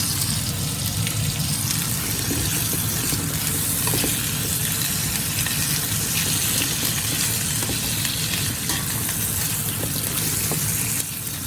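Potatoes sautéing over medium heat in extra virgin olive oil, a steady, close crackling sizzle with occasional stirring clicks running continuously with no voices.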